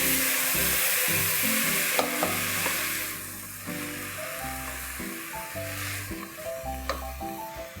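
Diced carrots and peas are stirred into hot oil in a pressure cooker for veg pulao, with a continuous sizzle broken by scraping spoon strokes over steady background music.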